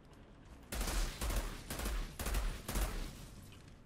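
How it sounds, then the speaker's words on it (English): A gun in Outriders fires in four separate rapid bursts after a brief quiet start, each rattling volley loud and close, with short gaps between them. "Is this the one that shoots like bullet by bullet?"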